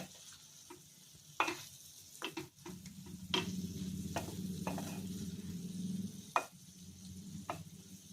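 Chicken or pork liver stir fry, Chinese style, sizzling steadily in a hot pan just after vinegar is poured in, with occasional sharp clinks and scrapes of a utensil against the pan over the continuous frying hiss.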